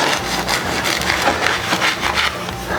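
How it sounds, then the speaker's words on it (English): A knife saws through a loaf of bread on a bias for bruschetta, making loud, close, rhythmic rasping strokes with a crusty scratch on each pass. "have a nice loaf of bread, and we're going to cut it on a bias"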